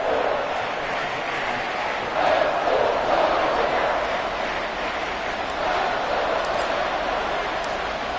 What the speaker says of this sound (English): This crowd alive again.